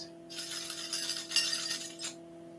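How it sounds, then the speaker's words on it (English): Metal keys shaken by hand in a calm indoor session, giving a bright, steady jingle of clinking metal that lasts about two seconds before stopping, with a faint constant hum underneath and no talking. "So we're going to shake the keys."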